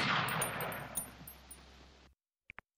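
Rapid arcade-style hip-fire bursts from a VR shooter game, a dense loud volley that stops abruptly, followed by two brief metallic clinks.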